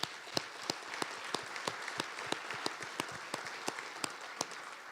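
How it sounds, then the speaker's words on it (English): Audience applause at a Springfield city event: a faint, steady wash of clapping with sharper individual claps standing out at regular intervals, heard from a distance throughout. "let's give them both a big round of applause"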